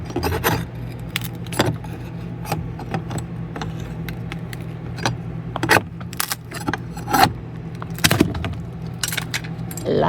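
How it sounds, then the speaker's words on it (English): Trim is pried off a camper wall inside a Casita travel trailer, giving scattered close clicks, creaks, scrapes and small metallic rattles over a low steady hum, with no talk. "So I'm taking this piece of trim off here."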